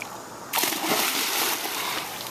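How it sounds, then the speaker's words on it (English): A child jumps into water with a sudden loud splash, followed by a couple of seconds of sustained splashing and sloshing close by. "Was that a very big splash?"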